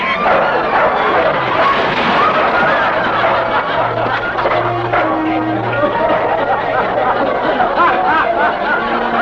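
A dog barks and yips in a dentist's office scene from The Abbott and Costello Show, a busy, loud stretch mixed with chuckling and voices that never lets up.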